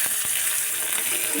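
Small fish drop into hot oil with browned onions, setting off a loud, close, steady frying sizzle with a couple of brief clatters near the start.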